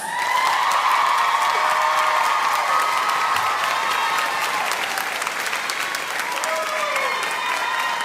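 A school district back-to-school convocation audience claps loudly and continuously, with scattered cheers and whoops rising over the dense, sustained applause.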